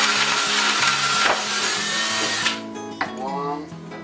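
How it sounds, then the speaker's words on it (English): A power drill bores holes while an over-the-range microwave is installed, whirring in short bursts that rise and fall in pitch, close up and loud, with a voice speaking between the runs. "And drill me 3 holes."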